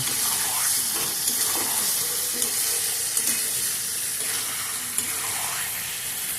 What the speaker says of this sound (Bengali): এবারে আমি ভেজে রাখা ডিমগুলো আমি এর মধ্যে দিয়ে দিলাম, দিয়ে ভালো করে আমি মশলার সাথে ডিমগুলো ভালো করে মিশিয়ে নেব